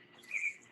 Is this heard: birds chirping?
yes